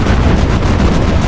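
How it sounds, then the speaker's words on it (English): A large explosion in the naval combat game Battlestations Pacific, during a kamikaze attack on ships, fills the clip as a loud, dense, continuous blast rumble with no pauses. "Large explosion, sir."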